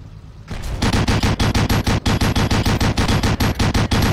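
Machine gun fire from a Pz.Kpfw. I Ausf. C tank in a video game: a long, loud run of rapid, evenly spaced shots that hammers on without a break after a quiet start.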